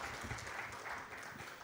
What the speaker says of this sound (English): Another round of applause for Julia.